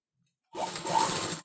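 A sewing machine runs in one short, steady burst of stitching on a blouse back piece, close and fairly loud after silence, then stops abruptly.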